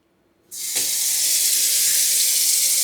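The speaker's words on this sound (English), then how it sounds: "how you turn on the water, by pushing or sometimes twisting the knob on the faucet" Water gushes from a kitchen faucet, starting abruptly after a brief silence and running as a loud, steady hissing stream.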